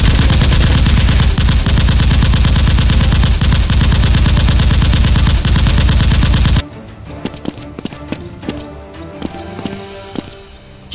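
Rapid, loud bursts of Nerf blasters firing during a mock battle, a dense continuous rattle for several seconds, then sparser sharp clicks and pops up close after it drops off.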